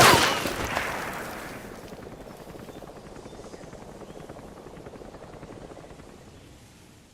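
A helicopter from Metal Gear Solid V: The Phantom Pain arrives for extraction. A loud whoosh at the start settles into a steady, rapid rotor chop that slowly fades over several seconds.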